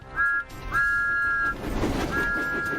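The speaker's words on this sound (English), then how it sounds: "he blew his whistle loudly" Three high, clear steam whistle blasts from Thomas the Tank Engine, a short toot followed by two longer sustained blows, loud and close with no talk over them.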